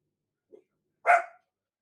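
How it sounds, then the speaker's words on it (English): Dogs bark somewhere in the background: one faint short sound, then a single louder bark, briefly heard against silence. "Oh, sorry, dogs are barking."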